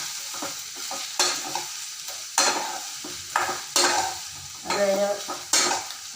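Onions fry in a pan for onion chutney, a low hiss broken by repeated spoon-on-pan stirring scrapes and clinks in uneven bursts, close by, with a brief spoken word.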